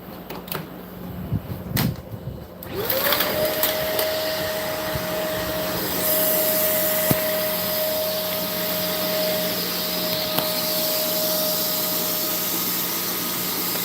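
A vacuum cleaner starts up and runs steadily with a sustained motor whine and broadband hiss, loud and continuous after a few seconds of clatter.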